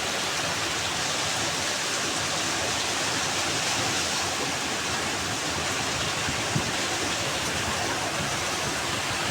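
Heavy rain pours steadily in Kanchipuram, a dense, even hiss with no let-up, heard close and alone for the whole stretch.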